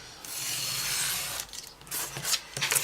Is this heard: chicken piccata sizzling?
no